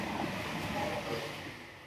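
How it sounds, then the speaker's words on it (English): A train passing on a line toward Norwich makes a steady, broad rushing rumble at moderate level. It stays even throughout with no voices. "And here comes another train."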